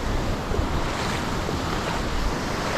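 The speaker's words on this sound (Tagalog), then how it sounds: "Malaki na rin kasi alon eh." Steady, loud surf rolls continuously on a Philippine shore with wind buffeting the microphone, a constant wash of big breaking waves close by and no voices.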